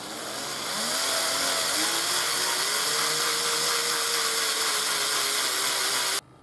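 A power drill drills out soft bolts on a BMW 1100G motorcycle ignition switch, one sustained loud whine whose pitch rises early and then holds steady before cutting off abruptly.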